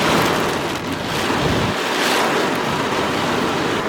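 A severe summer thunderstorm in New Jersey with strong winds, a loud continuous roaring rush of wind and driving rain close to the microphone, with no voices.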